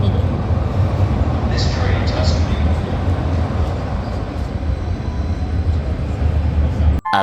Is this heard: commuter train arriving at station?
yes